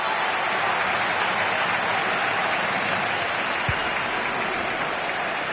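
Steady stadium crowd cheering and applause roars without a break through a match in the FC 26 football video game, loud and dense, with one brief low thump partway through.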